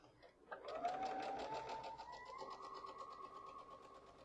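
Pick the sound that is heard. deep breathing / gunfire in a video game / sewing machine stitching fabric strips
sewing machine stitching fabric strips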